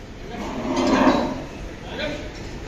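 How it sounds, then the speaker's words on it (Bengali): A black cow on a cattle farm gives a drawn-out moo that swells and fades, with a second softer call after it, amid outdoor background noise. "আর দেখতেছি কালো গরু।"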